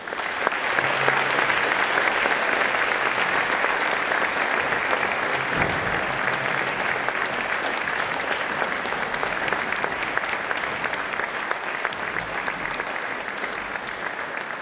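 Audience applause at a school orchestra concert in Brežice, dense sustained clapping that stays loud and even throughout with no break, crowd filling the hall.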